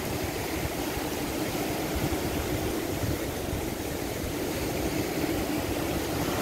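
Red Sea water at the Jeddah Corniche makes a constant broad wash, steady and fairly loud throughout like surf or wind-blown water, with no talking.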